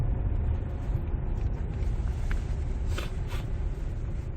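A low, steady engine rumble drones continuously from a 2005 Kia Sorento with 260,000 km idling while stopped, with a few faint clicks and rustles over it.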